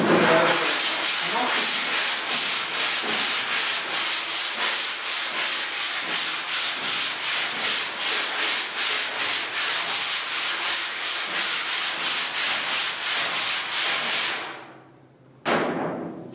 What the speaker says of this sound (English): it just starts shaving or filing